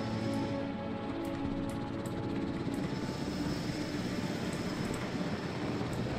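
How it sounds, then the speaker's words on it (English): In the video game Jurassic World Evolution, a helicopter drones steadily and loudly with an unbroken rotor and engine hum and faint rhythmic chopping on top. "that poor helicopter"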